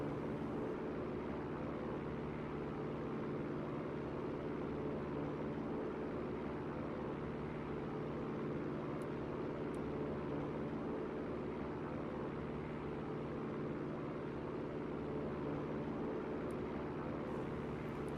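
Light aircraft cruising at a few thousand feet over flat terrain in the X-Plane flight simulator, a steady engine and propeller drone that stays even and moderate throughout.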